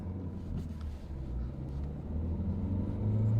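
A 2010 Nissan Qashqai dCi diesel drives along with a steady low engine rumble and road noise that rises slightly toward the end, heard from inside the cabin.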